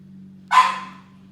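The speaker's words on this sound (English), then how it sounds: "that is my son's puppy playing" A puppy at play lets out a single sharp bark, loud and close, over a steady low hum in a quiet room.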